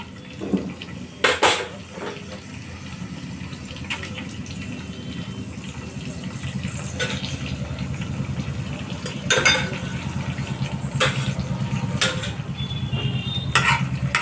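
Asafoetida, mustard seeds and whole spices in ghee make a low, continuous sizzle with scattered sharp pops and the clinks of a utensil against the pan. The sound stays close and steady throughout.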